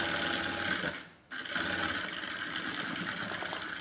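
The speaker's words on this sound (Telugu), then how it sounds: "నేనైతే ఇప్పుడు కుట్టేస్తున్నా" A sewing machine stitches a neck design in a fast, steady whirring hum, pausing briefly near the start before resuming its continuous close-up buzz.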